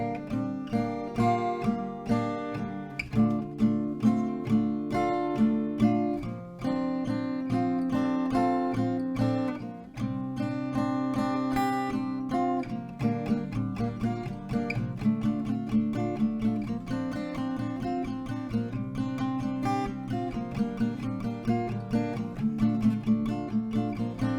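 An acoustic guitar plays the melody of a song at an increasing pace, with steady plucked notes and chords ringing close and clear throughout, and no voices.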